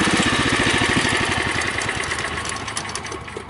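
Bolens Husky 600 garden tractor engine running close by, a loud steady chugging with rapid regular firing pulses that thin slightly toward the end; no voices.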